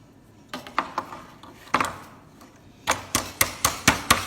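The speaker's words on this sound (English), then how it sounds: "Pretty important that you don't get too crazy with the hammer here" A hammer taps a metal patch onto a beehive queen excluder. About a dozen light, sharp metallic knocks come close up, scattered at first and then in a quicker, steady run.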